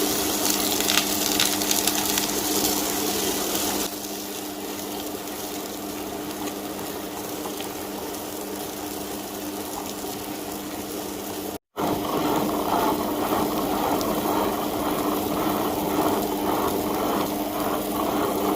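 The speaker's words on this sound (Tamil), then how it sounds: "இப்போ வடைக்கு எப்படி அரைக்கிறதுன்னு பார்த்துடலாம்." A wet grinder churns vada batter for crispy vegetable vadai, a loud, steady mechanical whirr and grinding rumble with a watery sloshing texture, continuous apart from a brief dropout.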